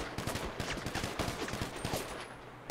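Rapid gunfire bursts crackle through a chaotic shootout against police in GTA V roleplay during a botched jewelry store robbery, shots rattling densely and loudly throughout with no pauses.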